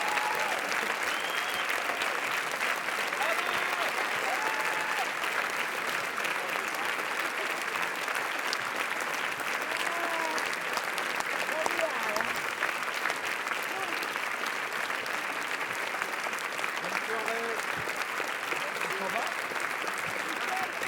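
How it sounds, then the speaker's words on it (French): Sustained, dense applause from a large audience in the Grand Théâtre Lumière at Cannes fills the whole stretch, steady and loud, with faint voices mixed in. "Beaucoup d'applaudissements."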